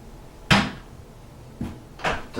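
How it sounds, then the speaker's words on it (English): A wooden interior door, its rubbing hinges just fixed, swings shut with a sharp close, followed by two softer knocks and thumps of the door being handled, close and clear in a quiet room. "Look at that, we can just close it. Closes normal."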